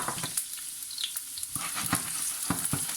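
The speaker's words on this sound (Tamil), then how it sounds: "கார்லிக்கை போட்டு பொரிக்க வேண்டும்." Garlic frying in oil, a soft continuous sizzle with occasional sharper pops and stirring clicks, fairly quiet and close.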